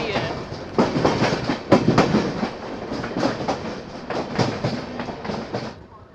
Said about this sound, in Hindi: यह दोस्तों शताब्दी एक्सप्रेस अपनी लखनऊ शताब्दी जो टुंडला से डिपार्ट कर रही है।